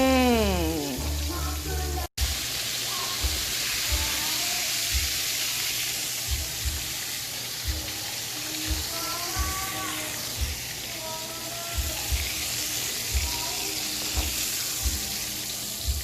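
An egg-washed, lightly dredged pork chop fries in hot oil with a steady, close sizzle that hisses on throughout, while someone speaks occasionally over it.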